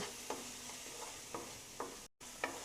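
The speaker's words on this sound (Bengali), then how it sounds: "স্বাদ মতো লবণ দিয়ে মশলাগুলোকে আমরা ভালো করে মিক্স করে আর একটু কষিয়ে নেব।" Spices and salt being stirred and fried in a pan for Bengali aloo matar, a quiet, even sizzle with several soft scraping stirs spaced through a short stretch and a brief dropout near the end.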